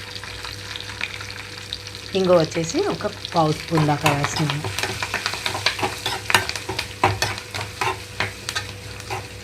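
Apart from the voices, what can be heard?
tempering with turmeric and asafoetida frying and stirred in pan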